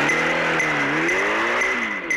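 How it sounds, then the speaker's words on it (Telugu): A speeding car races away in a film sound effect, a loud sustained engine roar with rising and falling pitch sweeps and a faint tire squeal, no voices. "ట్రైన్ కారు దూసుకుపోయిన శబ్దం వినబడుతుంది"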